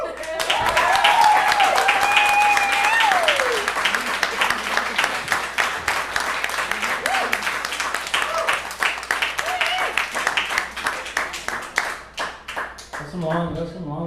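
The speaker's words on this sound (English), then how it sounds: "That's some long clapping." Long audience clapping and applause at an open mic night in a café, dense and steady for most of the stretch before tapering, with cheers and some voices mixed in.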